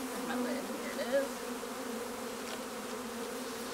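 Honeybees buzz around the entrance reducer of a newly set up hive, a steady droning hum with some nearer passes rising and fading, moderately loud and continuous with no talk.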